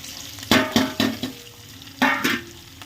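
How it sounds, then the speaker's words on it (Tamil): Small shallots sautéing in a pan with curry leaves, several distinct stirring scrapes and bursts of sizzle in short, uneven strokes, close and fairly loud. "சின்ன வெங்காயம் தான் கட் பண்ணியிருக்கேன் சரி நல்லா வதங்கட்டும்"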